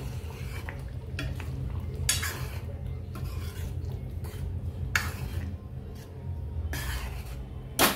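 Grated paneer being stirred into a masala in a pan, with a spoon scraping and clinking against the metal at intervals over a low, steady sizzle, no talking.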